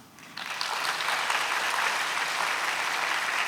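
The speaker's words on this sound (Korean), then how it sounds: "박수." A church congregation at a Wednesday worship service breaks into applause, the clapping starting abruptly and holding as a full, steady wash to the end.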